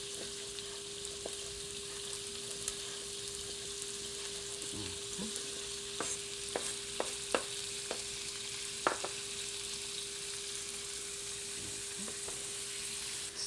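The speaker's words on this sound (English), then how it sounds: "While the shrimps and the scallops are just browning lightly, we'll chop the clams." Shrimp and scallops browning lightly in a pan give a steady, soft sizzle with faint clicks and taps of utensils, heard alone at moderate volume throughout.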